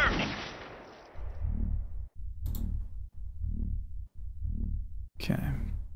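Gunfire from a battle in the real-time strategy game Army Men RTS comes as a series of evenly paced, heavy bursts of rattling shots, loud and close, ending in a sharper crack.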